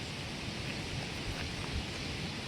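Light rain falling steadily, a soft continuous hiss of drops with no distinct pattern, fairly quiet and even throughout.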